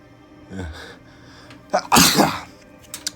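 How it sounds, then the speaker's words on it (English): A single loud sneeze with a sharp explosive burst, preceded by a quick intake of breath and a faint noise, close to the listener. "I'm about to sneeze."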